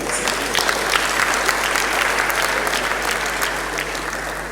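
Sustained applause from a crowd at a town hall meeting on security, steady clapping filling the space for several seconds without letting up.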